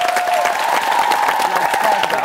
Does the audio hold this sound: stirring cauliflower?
no